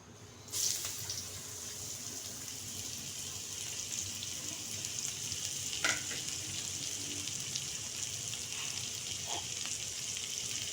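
Cabbage hits hot oil in a pan for fried rice, a sudden sizzle that settles into a steady frying hiss, with occasional scrapes of a stirring spoon and no talk.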